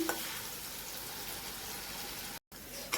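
A paste of green chili, garlic and cumin fries in hot oil, giving a soft, steady crackling sizzle throughout with a faint stir near the start and end.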